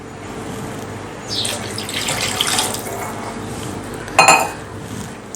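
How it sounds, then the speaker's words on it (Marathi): Water running from a tap with pots and utensils clinking in a kitchen while preparing jowar flour millet soup, a steady moderate stream with a sharp metallic clatter near the end. "सुरुवातीला मी दोन ग्लास पाणी घालणार आहे"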